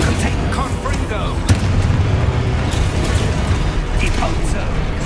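Confringo fire-blast spell going off in Hogwarts Legacy amid a dense, loud spell-combat din: a constant rumbling roar with a sharp burst near the middle and occasional whooshes, with a voice speaking over it.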